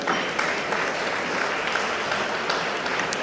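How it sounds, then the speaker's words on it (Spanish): An audience at the Ecommerce Day conference in Buenos Aires gives steady, dense applause for the honorees being called to the stage, continuous and fairly close with no talking. "Les pido un fuerte aplauso para ellos."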